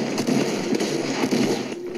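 A heavy shotgun firing in a video game, as a rapid crackling string of close, loud sharp reports over a dense noisy bed.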